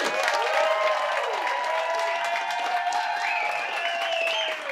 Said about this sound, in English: just by a round of applause, let me know who you think won